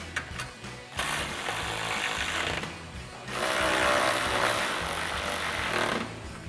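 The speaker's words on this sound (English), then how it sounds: "And then we'll take our 10mm socket to tighten these down." A 10mm socket on a ratchet wrench tightening headlight bolts on a 2014-2015 Silverado 1500, heard as close, rapid ratcheting clicks in sustained bursts separated by brief pauses.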